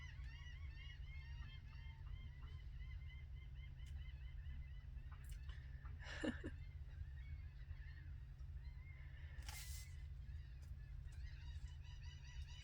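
Geese honk loudly outdoors in a repeated, overlapping chorus of calls over a steady low background hum, with a couple of sharper, louder honks standing out.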